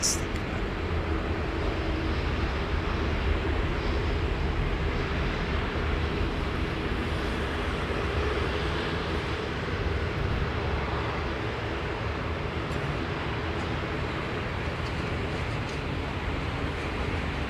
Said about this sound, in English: Jonathan can really hear that thrust through the headphones